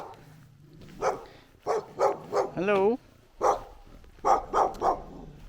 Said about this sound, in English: There's another local dog.